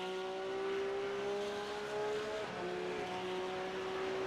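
A race car engine at Oulton Park holds a steady high drone from an onboard view, with a brief dip and recovery in pitch midway as the driver lifts and gets back on throttle.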